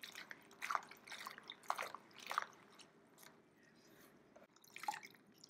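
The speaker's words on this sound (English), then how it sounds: "I'm just transferring our sliced leeks from the first water bath into a fresh water bath." Sliced leeks being moved by hand from one cold water bath to a fresh one, giving soft, scattered splashes and wet drips, faint and irregular with quiet gaps between.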